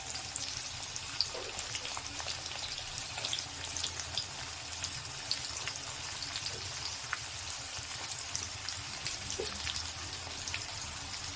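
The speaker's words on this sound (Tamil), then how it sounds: "வெங்காயம் ஒரு 2 நிமிஷம் நல்லா வதக்கிட்டோம்" Onions frying in oil in a pan for a tamarind curry, giving a steady, faint crackling sizzle with small pops, continuous and alone.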